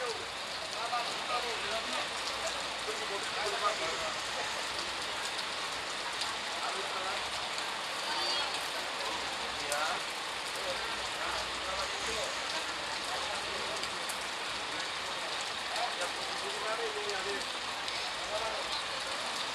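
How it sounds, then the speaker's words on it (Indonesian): Steady rain pours down at a bus terminal, a continuous even hiss of drops on surfaces with faint vehicle rumble beneath, heard close and unbroken throughout. "Hujan guys."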